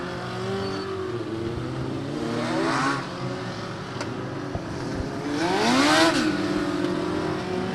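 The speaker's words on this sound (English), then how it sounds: "We got cars coming on the racetrack." Race cars at Bethel Motor Speedway in New York, during the 2011 Legendstock event, roar past one after another, engines rising and falling as they sweep by at moderate distance over a steady background engine drone.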